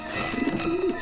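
Pigeons cooing on a rooftop in the game Grim Fandango Remastered, a short close burst of low throaty cooing over a steady ambient hum.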